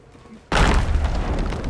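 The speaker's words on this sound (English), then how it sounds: "Ah, the sound of explosions." Gunpowder barrels exploding in the pirate video game Sea of Thieves: after a quiet moment, a loud, sudden boom hits and rolls into a sustained, rumbling blast that stays heavy to the end.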